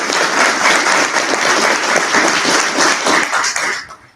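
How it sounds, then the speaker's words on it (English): A crowd at a university program completion ceremony applauds instructors with loud, sustained clapping that fills the room for about four seconds, then quickly fades out. "I wish we could give all of them a big round of applause."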